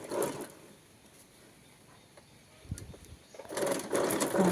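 Sewing machine stitching a round seam on a girl's frock, with bursts of mechanical running at the start and end, a quieter pause in between.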